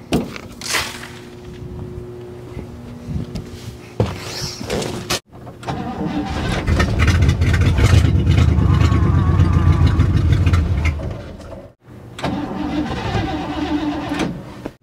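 A 1960 Chevrolet Impala that sat for 32 years cranks over, with bursts of starter grinding and a longer stretch of rough engine cranking, separated by short pauses, close and loud.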